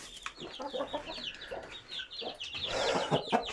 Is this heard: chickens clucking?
yes